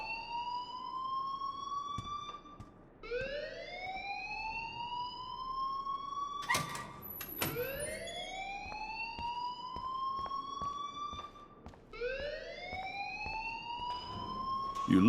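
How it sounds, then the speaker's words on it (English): Fire alarm in the video game Life Is Strange, a repeating rising electronic whoop that sounds about every four to five seconds at steady volume, with occasional sharp clicks between cycles. "please turn off that alarm since that's your job"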